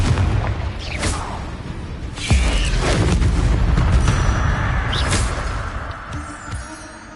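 Confringo fire spell in Hogwarts Legacy, a run of deep booming blasts with sharp cracking bursts over a dense, loud rumbling game soundscape.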